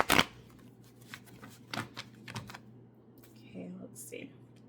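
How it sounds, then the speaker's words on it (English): A stiff deck of tarot cards is shuffled in a few quick riffling bursts that are soft and close, separated by quiet pauses. "They don't really glide well when I shuffle."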